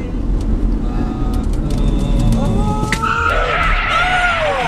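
Tires squeal in rising, drawn-out skids as a car nearly crashes, over steady road noise and engine hum, the screech building loud near the end.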